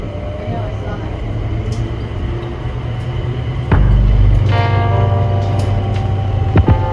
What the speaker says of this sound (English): Please hold on. The train is departing.